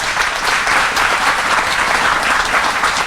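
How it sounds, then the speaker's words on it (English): A crowd claps steadily in dense, sustained applause throughout, loud and close, with no voices standing out. "So round of applause for Arch Grants."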